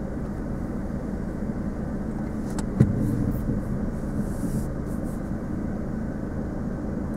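A car moving during a driving lesson, a steady low engine and road rumble inside the cabin with one brief knock partway through, no talk.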